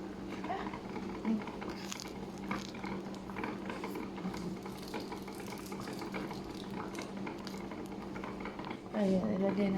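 An egg goes into a pot of boiling water while Indomie instant noodles are being cooked. Bubbling and light patter carry on steadily, close by, under intermittent speech.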